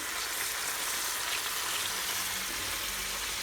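Escarole sizzling and frying in hot oil in a pan, a steady loud crackle with water spitting against the oil, no voices.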